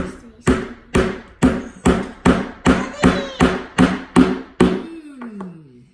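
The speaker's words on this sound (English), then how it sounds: "need to hammer all 4 nails down" Hammering nails into a toy sleigh: about eleven sharp, evenly spaced blows, loud and close, followed by a faint scraping sound at the end.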